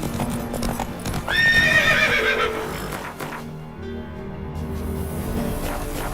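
In the video game Witcher 3, a horse's hooves clip-clop at a gallop while it neighs loudly once early on, the hoofbeats continuing steadily over a background music bed.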